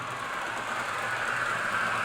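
A model railway locomotive runs at speed step 50 along a layout, giving a steady close rolling hum and rumble for about two seconds with no talking.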